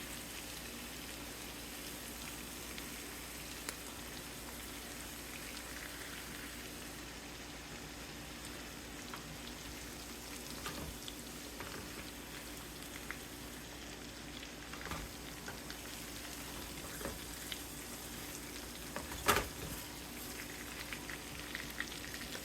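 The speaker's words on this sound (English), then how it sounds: "We're going to turn over our salmon to brown the other side." Garlic butter salmon frying in a pan, with a steady, even sizzle running throughout and a few louder pops and crackles near the end; no talking.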